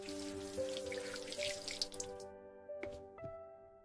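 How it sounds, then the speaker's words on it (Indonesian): Tap water runs into a sink for handwashing, a close, steady splashing stream that stops partway through, leaving a few drips and a soft musical tone underneath. "Gunakan sabun dan air mengalir."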